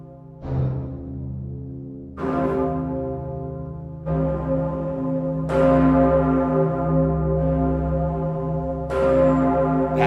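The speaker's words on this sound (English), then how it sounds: "this is the cathedral bell" A sampled cathedral bell from a virtual instrument strikes four times at a slow, uneven pace, each loud, rich toll ringing out with long sustaining overtones that overlap the next strike.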